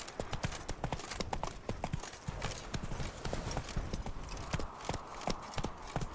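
Roach the horse gallops in The Witcher 3, rapid rhythmic hoofbeats pounding close and loud without a break under faint ambient wind.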